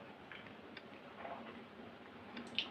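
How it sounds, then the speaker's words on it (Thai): A pendulum clock in the video game Honkai Impact 3 ticks faintly and steadily, with soft, evenly spaced clicks over a quiet background hiss. "น่าสนใจนาฬิกาลูกตุ้มนี่"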